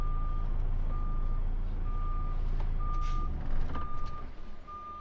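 Reversing beeps from an HGV truck at the old Uttoxeter race course yard, a steady run of evenly spaced electronic tones over a loud idling diesel rumble, with a brief clatter near the end.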